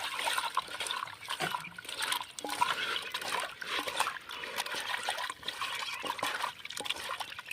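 Raw chicken pieces rubbed with turmeric and salt are washed by hand in a little water outdoors in village fields, with steady trickling, sloshing and splashing close by and no talking.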